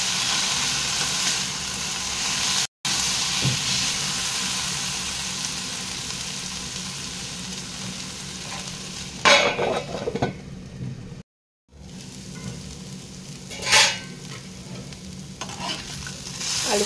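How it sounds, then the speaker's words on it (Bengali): Pointed gourd and potatoes fry under a lid in a pan, giving a steady soft sizzle with occasional stirring scrapes and a couple of brief dropouts, close and alone. "আমি এটাকে ঢাকন দিয়ে কিছুক্ষণ ভেজে নেব।"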